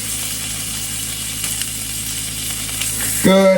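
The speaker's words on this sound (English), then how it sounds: "So now we want to cook the sides." Steak held on its edge to sear the sides in a hot pan, producing a loud, steady sizzle throughout, and a short spoken word comes in right at the end.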